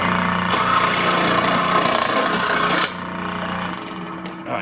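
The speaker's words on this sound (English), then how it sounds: "So now I'm going to cut this in half where I believe the fatwood goes to right about there." A fatwood stick being sawn in half by hand, heard as loud, close, rasping back-and-forth strokes that run steadily for a few seconds before the cutting eases off.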